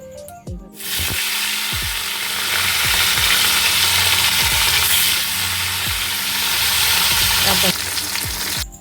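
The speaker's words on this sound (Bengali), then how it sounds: "কড়াই আমি তেল দিয়ে দিয়েছি, মাছ ভাজার জন্য গরম হতে দিয়েছি" Hilsa fish frying in hot oil in a wok, a loud continuous sizzle with repeated scraping clicks from stirring, close up.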